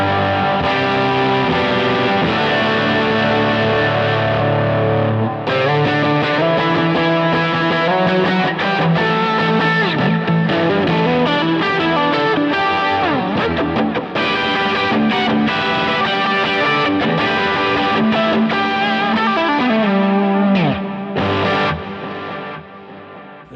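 Driven electric guitar lead tone through a Neural Quad Cortex, sustained distorted single-note lines and bends with chorus-like shimmer, loud and continuous for over twenty seconds without speech.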